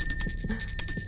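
A bell rings in a steady, rapid metallic trill for about a second, marking the start of a two-minute timer on a Brazilian real estate show.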